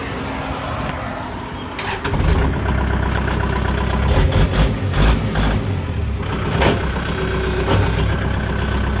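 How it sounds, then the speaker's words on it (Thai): A 2018 Kubota L5018 tractor's diesel engine cranks and catches, then settles into a loud, steady idle with a deep rhythmic knocking rumble close by. "เดี๋ยวเราลองมาสตาร์ทเครื่องยนต์ดู"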